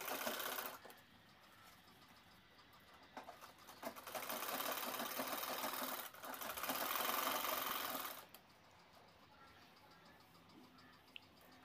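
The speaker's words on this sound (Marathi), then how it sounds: "त्यानंतर आपल्याला हे कोपरे शिवून घ्यायचे आहे" A home sewing machine stitches the corners of a cloth tote bag, running in steady whirring bursts with short pauses between them and a small click near the end, close and alone without talk.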